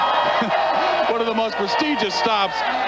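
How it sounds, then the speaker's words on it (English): Enthusiastic crowd at a 1998 PBA bowling tournament stop in Austin, Texas, a loud sustained mix of cheering and whoops with a voice talking over it. "As I mentioned, we've got an enthusiastic crowd here"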